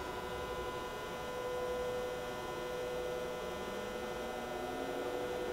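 A Sharp 3-axis CNC vertical mill with Anilam 3300 MK control runs its spindle at the top of low gear, giving a steady, continuous mechanical hum with faint tonal whine, constant in level and alone without speech.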